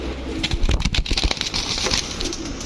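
A pair of Chua Chandan pigeons coo softly, with a few low throaty calls mixed with rustling and patter, fairly close.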